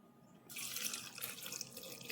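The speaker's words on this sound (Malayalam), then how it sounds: "਒രു കപ്പ് വെള്ളം ഒഴിച്ച്" A cup of water is poured into a cooking pot of Kerala-style potato stew seasoned with curry leaves and salt, a steady splashing gush starting abruptly and running for about two seconds, close and alone.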